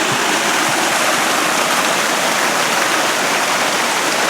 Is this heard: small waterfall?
yes